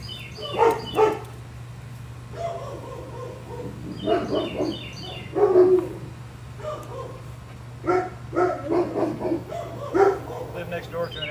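Several deep barks from large dogs come in irregular bursts, some close together, over a steady low hum; birds chirp faintly in the background.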